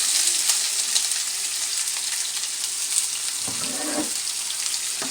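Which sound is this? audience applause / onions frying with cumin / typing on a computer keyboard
onions frying with cumin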